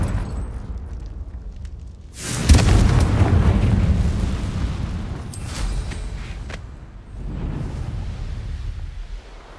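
A fiery Confringo spell explodes in Hogwarts Legacy with a loud, booming burst that rolls and decays over several seconds, followed by a smaller rumbling swell.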